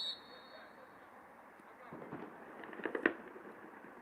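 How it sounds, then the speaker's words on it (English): Fireworks bursting at sunset during a Badger Cup soccer final, a few distant pops and crackles building toward a sharper burst near the end, heard over crowd and ambient noise. "Fireworks beginning in earnest now"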